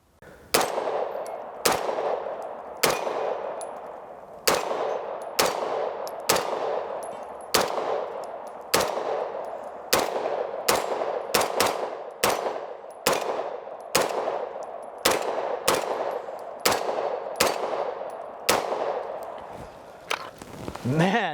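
Sig Sauer MPX Copperhead firing about twenty loud, sharp single shots in a steady, evenly spaced rhythm, each with a short ringing decay, close and unaccompanied by talk.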